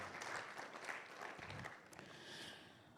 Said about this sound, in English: a round of applause for Madam Beauty Nati again.